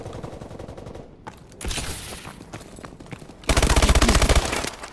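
MP11 submachine gun firing in Call of Duty: Advanced Warfare, with rapid loud automatic bursts, a short one early and a sustained close burst near the end, over in-game background noise.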